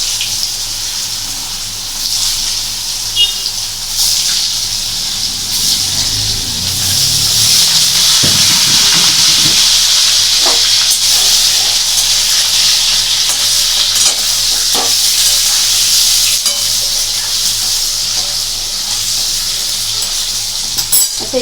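Cubed paneer sizzles loudly in hot oil with turmeric and Kashmiri chili powder, a steady bright hiss running throughout, with brief stirring clatter partway through.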